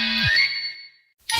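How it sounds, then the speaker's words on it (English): A work-number phone ringtone plays a bright tonal chime that fades out, then a second burst starts after a short gap, loud and close with no talking. "The ringtone clearly indicates it's to my work number"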